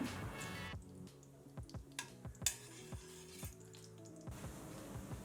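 Cumin seeds, peanuts and curry leaves sizzle and crackle in hot oil for churmuri, with soft popping drips and faint stirring, quiet and close throughout.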